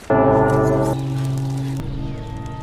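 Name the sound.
bell ringing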